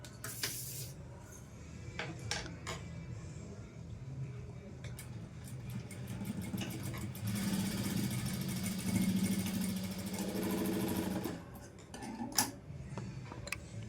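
A sewing machine stitching a cross-cut blouse runs in a rhythmic mechanical rattle, rising to a steadier, louder whir in the middle before stopping, with sharp clicks and handling knocks around it.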